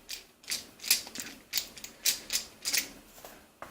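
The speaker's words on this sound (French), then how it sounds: "je dévisse la grosse extrémité" Someone unscrews the large end of a rifle recoil pad mount, producing a run of quiet, evenly spaced ratcheting clicks and small mechanical taps, close and alone with no talking.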